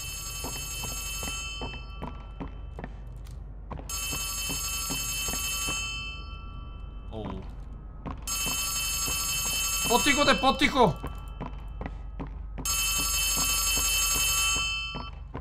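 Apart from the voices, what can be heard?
old telephone ringing in a video game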